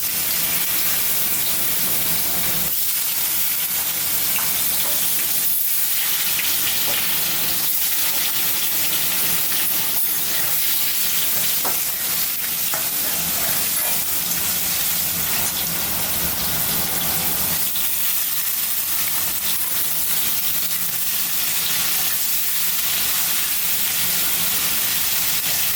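Cut paneer cubes fry in a pan for a Bengali paneer masala, giving a steady, loud, broadband sizzling hiss that carries on throughout with slight dips and surges.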